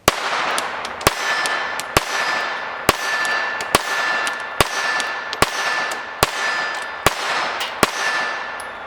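Walther PPK/S .22 LR pistol firing CCI standard velocity 40-grain rounds, about eleven sharp, loud shots at a fairly steady pace over a continuous hiss of background noise, with no talking.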